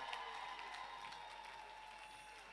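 A church congregation applauding at a women's rights day service, a steady patter of many hands clapping, soft and somewhat distant, with a faint sustained tone beneath.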